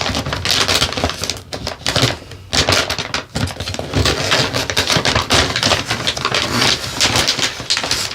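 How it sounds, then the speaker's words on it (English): Scissors slicing through material while prepping, a dense run of crisp snipping and crunching strokes, loud and close, continuing steadily with brief pauses. "my scissors are just sliding right through it like a razor"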